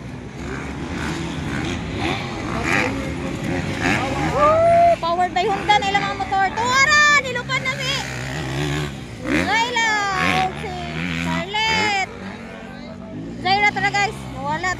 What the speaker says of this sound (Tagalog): Tara si Zaira, nakapula ang motor.